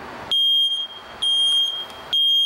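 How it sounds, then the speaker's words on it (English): A piercing ionization smoke detector test alarm beeps three times in a steady rhythm, each shrill tone lasting over half a second, loud and close. "I want to press that button so you can see this is a working smoke detector."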